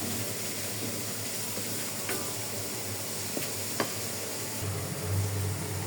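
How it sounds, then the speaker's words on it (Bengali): Bottle gourd greens (lau shak) with beans hit hot oil for tempering, giving a steady, moderate sizzle and hiss with a few faint clicks of stirring, and no talking. "এখন আমি শাক বাগার দিতে বসাইছি।"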